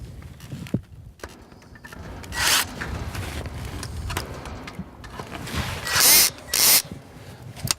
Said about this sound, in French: je reprends la visseuse et je fixe définitivement ma crémaillère